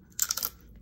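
A single crisp crunch of someone biting into a chicken tlayuda, close up, lasting under half a second, with no talking.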